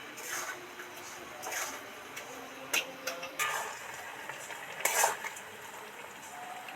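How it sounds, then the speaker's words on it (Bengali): A metal spatula scrapes and taps through grated coconut in a wok, making intermittent clinks and soft scraping strokes at moderate closeness, with quiet gaps between. "নারকেলগুলো এই কড়ার মধ্যে এবার উঠিয়ে দেব। আস্তে আস্তে নেড়ে চেড়ে মিশিয়ে দেব।"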